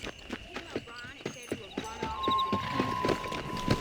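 Horse hooves clip-clop at a quick, steady gallop in Red Dead Redemption, the rhythmic beats clear and close, joined by faint game ambience and a few voices speaking over the ride.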